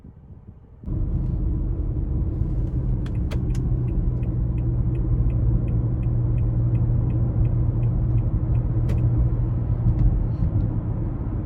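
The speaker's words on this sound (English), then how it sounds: "take this 2020 Altima SL out on the road for a test drive" Steady road noise and engine rumble from a 2020 Nissan Altima 2.5 SL with CVT, heard from inside the car as it drives, loud and continuous after a quieter opening second, with faint regular ticking throughout.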